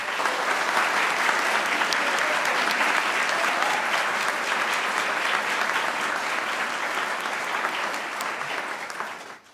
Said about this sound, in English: To the entire class of 2020, a round of applause.